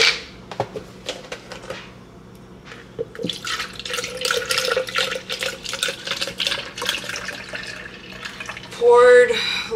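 Tap water runs into a blender jar that already holds almond milk and ice cubes, a steady splashing stream in a kitchen with clinks and handling noises, ending in a louder gush.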